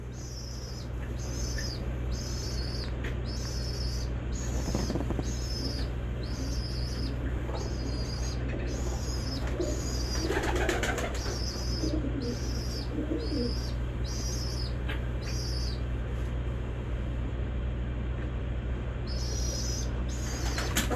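A large-winged pigeon coos in repeated soft phrases, with a brief burst of flapping wings midway, over a constant low hum and a steady high tonal pattern.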